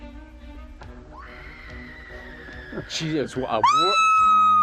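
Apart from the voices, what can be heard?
woman's scream in horror film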